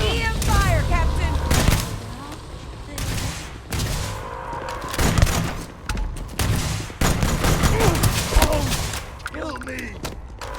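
EM weapon fire in Starfield crackles in repeated loud bursts broken by short gaps, mixed with voices talking over the shooting.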